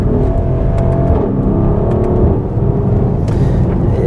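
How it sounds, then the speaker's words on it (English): A Mercedes-AMG GLC 63S engine and exhaust rev loudly and up close, a crisp, throaty roar that holds steady for several seconds, rising briefly near the end with no talk over it. "the exhaust is nice and loud, and the engine's nice and crisp"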